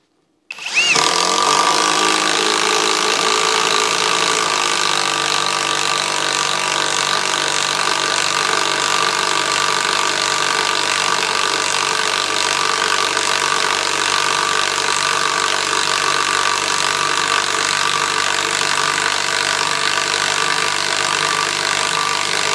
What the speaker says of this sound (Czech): Použiju záměrně chromanadiové ořechy, dám si tam ten nejvyšší kroutící moment a zkusíme to zašroubovat.